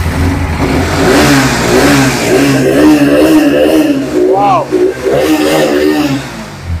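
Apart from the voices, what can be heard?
bike engine revving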